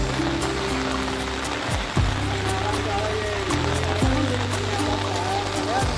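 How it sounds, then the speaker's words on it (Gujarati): Heavy rain pours steadily in a monsoon downpour near a filled pond, a constant dense hiss running throughout with low droning tones and occasional voices beneath it. "ફૂલ વરસાદ ચાલુ છે"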